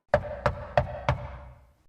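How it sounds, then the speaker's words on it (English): Knocking on the door of a big mansion: four evenly spaced, sharp raps close by, each with a brief hollow ring, then the sound fades away. "she knocks on the door"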